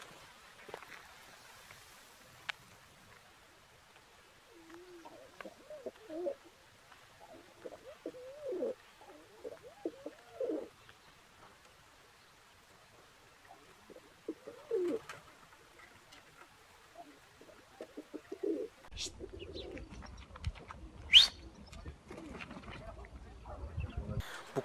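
Tumbler pigeons at a breeder's loft coo in soft, repeated low calls through the middle of the stretch, followed by a louder burst of fluttering and rustling near the end.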